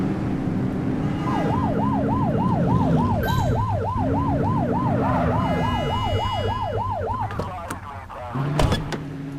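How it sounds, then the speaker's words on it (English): A police car's wailing siren in the video game The Precinct cycles rapidly up and down about a dozen times, close and loud over an engine rumble, then cuts off and leaves clunks and mechanical noise. "Get behind them and blip the siren to make them pull over."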